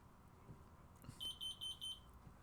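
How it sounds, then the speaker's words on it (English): Five short, evenly spaced high electronic beeps from a detector chirp over a quiet room hum, moderately loud and close, with no talking. "What the heck is that beeping?"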